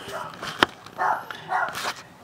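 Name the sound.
dog barking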